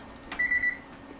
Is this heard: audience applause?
no